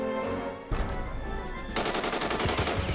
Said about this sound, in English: I think he tried to shoot Thor just now.